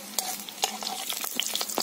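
Black cumin seeds and four slit green chillies fry in hot mustard-oil style for a hilsa curry, a brief faint crackle with scattered sharp spits and pops.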